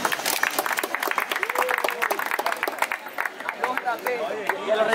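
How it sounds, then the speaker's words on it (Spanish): An audience at a street freestyle rap event claps for the freestyle rappers: dense, brisk clapping with crowd voices and whoops mixed in, fairly close and lively, a voice rising over it near the end. "Regalenle un fuerte aplauso a los raperos de Freestyle"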